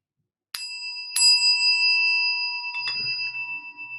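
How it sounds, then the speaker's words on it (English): A meditation chime rings out, struck twice in quick succession, its clear metallic tones sustaining and slowly fading, followed by a softer third strike and a faint low hum. "Allow the sound of the chime to call you to presence."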